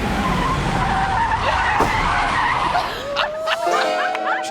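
A car skids with tire squeal while reversing fast through cones at a busy outdoor event, the engine roaring steadily before a rising screech near the end, with crowd noise beneath.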